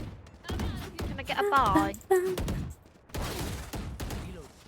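Gunfire from a gun in the Roblox Rivals shooter game, a few sharp bursts in the mix while players talk excitedly over the action.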